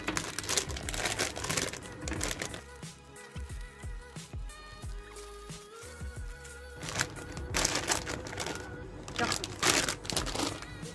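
Hamburger-shaped candies unwrapped from crinkly wrappers, with loud, close crackling and rustling bursts throughout, a speaking voice heard alongside much of the crinkling.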